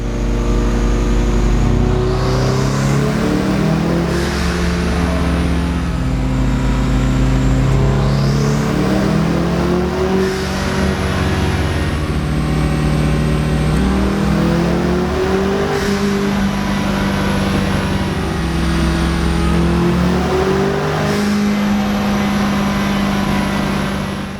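Turbocharged Mazda Miata engine pulling hard under boost during a test run, the loud exhaust note rising in pitch through repeated climbs and lifts, steady and close with no talking.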